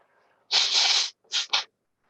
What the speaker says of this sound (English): He had to blow his nose.